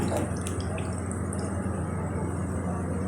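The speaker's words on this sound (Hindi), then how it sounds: "इसमें हम इमली का पानी शामिल करेंगे" Tamarind water poured into chana chaat, a close trickling and splashing of liquid with a few drips, heard on its own for a few seconds.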